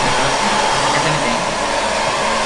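A hair dryer blows continuously at close range during hair styling at home, a loud steady whooshing roar with faint voices beneath it.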